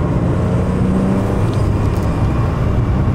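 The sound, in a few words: Porsche 993 Turbo 1996 accelerating hard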